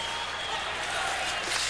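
Fans applauding at a 1991 NHL hockey game, Pittsburgh Penguins at Boston Bruins, in the Boston arena: a dense, steady wash of crowd applause fills the whole short stretch, with a voice faintly underneath.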